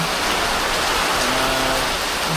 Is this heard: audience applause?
no